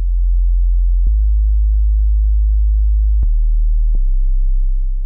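Deep sub bass sine notes low in the register, held as one continuous tone that shifts pitch three times across about five seconds, with small clicks at each note change, loud and alone with no voices.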